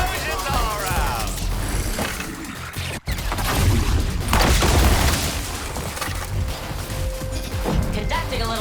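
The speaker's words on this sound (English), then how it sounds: "Explosions all around." Explosions in the video game Suicide Squad: Kill the Justice League, loud booming blasts and crashing impacts layered with mechanical clatter, packed densely from start to finish and dropping out in a brief gap partway through.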